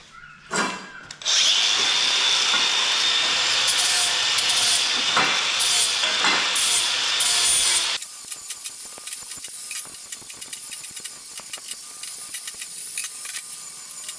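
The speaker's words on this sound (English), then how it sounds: "I'm going to hit all these with the grinder and just deburr them all" An angle grinder deburrs freshly cut steel pieces for a small welded workbench, a loud sustained high whine for several seconds after a brief start, then stopping into quieter clattering workshop handling.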